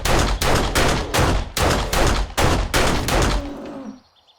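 Loud, close bursts of automatic gunfire in 7 Days to Die, about seven rapid volleys in a steady rhythm before the shooting stops and faint ambient tones remain.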